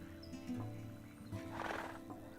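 A horse in the Ashes of Creation video game lets out a single mid-range whinny with a rising, breathy burst toward the end, set over a low steady hum of game ambience.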